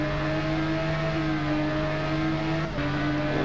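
Motorcycle engine at full throttle on a fast stretch in RIDE, a European supersport bike holding a loud, steady high-revving whine, with a brief dip and shift near the end.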